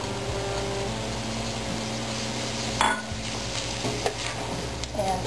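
Tomato goes into a pan of sizzling beef and onions and is stirred, with a soft continuous sizzle and a few scraping, clattering spoon strokes near the end.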